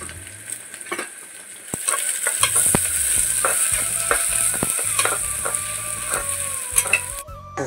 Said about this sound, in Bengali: মিনিট মতো মশলাটা একটু ভেজে নিয়েছি